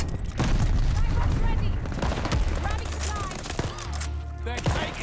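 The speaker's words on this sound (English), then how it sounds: "Enemy shells coming in hot." Incoming enemy shell explosions in Call of Duty Vanguard: dense, loud booms and rapid gunfire crackle nearly nonstop, with a voice talking over the barrage.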